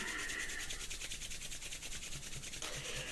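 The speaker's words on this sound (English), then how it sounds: "let's start with rubbing our hands together" Hands rub together in a continuous dry swishing close to the microphone, with an even rhythm, a short shift in tone near the end and no talking.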